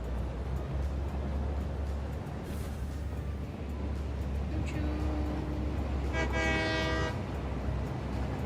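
A train in the video game Satisfactory rumbles in on a low steady drone, then sounds a short horn tone followed by a longer, louder chord-like honk near the end.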